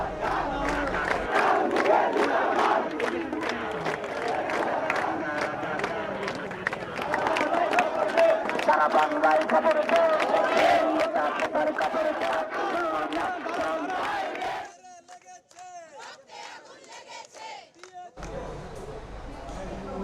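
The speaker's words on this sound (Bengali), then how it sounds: "সড়কে অবস্থান নিয়ে বিভিন্ন স্লোগান দেন তারা" Protesting students on a road in Bangladesh chant slogans in a loud, sustained crowd roar with rhythmic shouted calls, followed by a brief quieter stretch with scattered voices before the chanting swells again.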